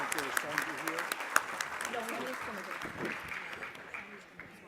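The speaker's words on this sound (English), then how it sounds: "let's give them a round of applause for making it right on time" Guests at an awards and scholarship fundraising event give a round of applause, a moderate, somewhat distant clatter of clapping with voices talking through it.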